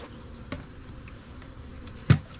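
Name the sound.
bees buzzing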